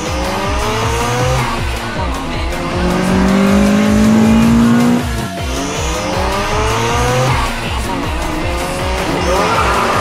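A Mazda RX-7 FD race car roars past with its engine revving through rising pitches and tires squealing, loud and continuous for the whole stretch.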